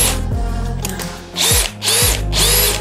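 A DeWalt cordless drill whirs at speed 2 in short close bursts, spinning up and stopping several times with a smooth gearbox whine and no talking.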